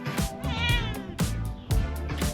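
A cat meows close by and fairly loud, giving about three drawn-out, wavering calls in quick succession.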